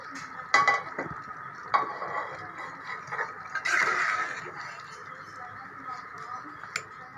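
Arbi saalan, a taro-root curry, being served from a cooking pot into a dish: a few metal clinks and scrapes of a serving spoon against cookware, fairly close, with a voice speaking over much of it.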